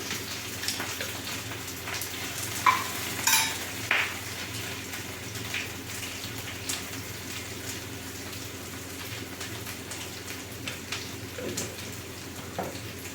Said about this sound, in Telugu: ఆల్రెడీ ఫ్రై అవుతుంది